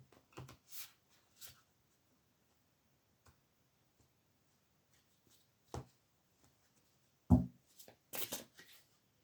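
Botanical tarot cards shuffled by hand in a quiet room, a few soft, scattered riffling bursts and light taps spread across the stretch, with a sharper flurry near the end.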